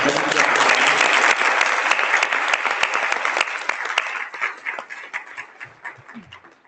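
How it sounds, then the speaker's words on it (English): A webinar audience applauds in a loud, dense burst of clapping that gradually thins and fades, with faint low voices near the end. "let's please a round of applause"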